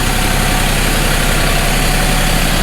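A small Ford 1720 27-horsepower tractor engine idles steadily up close on a cold snowy day, a continuous low rumbling chug with no voices over it.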